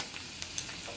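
Thinly julienned ginger fries in a pan with a steady soft sizzle, a few brief crackles and spatters popping through during one quiet second without talk.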